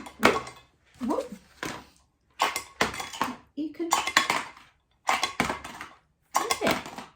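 A frying pan clatters and clanks against the stove in short, sharp bursts while pancakes are flipped at home, with someone talking between the knocks.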